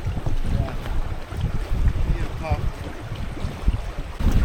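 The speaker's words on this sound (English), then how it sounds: "Got some wind now." Steady wind gusts and buffets the microphone aboard a Windrider 17 trimaran under sail. A low, rumbling roar holds throughout, with water rushing along the hull beneath it.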